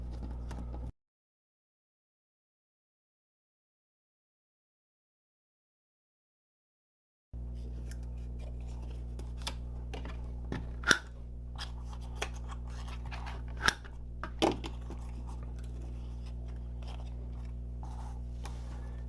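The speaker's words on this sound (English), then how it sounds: "Go ahead and fold and burnish along the score lines on the two side pieces." Cardstock for a fall truck box card being folded and burnished along score lines, soft papery creases and scrapes with a few sharp clicks, close and quiet over a low steady hum after a silent stretch.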